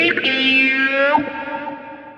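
Distorted electric guitar run through a wah on a Kemper Profiler: a sustained note with sweeping tonal shifts and a bending slide near the middle, fading with echoing decay.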